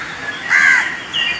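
A single crow caws once, a harsh, fairly close call standing out against a quiet outdoor morning background.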